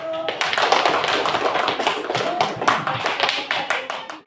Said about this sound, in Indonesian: Beri tepuk tangan kelompok 1.